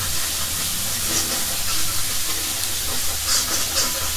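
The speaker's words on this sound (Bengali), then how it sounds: "এখন আমি মশলাটিকে ভালোভাবে কষিয়ে নেব যতক্ষণ না পর্যন্ত মশলার গা থেকে তেল বেরিয়ে আসছে।" Spice paste for a chicken curry with new potatoes fries in a pan, giving a steady loud sizzle and hiss with faint crackles throughout and no talking.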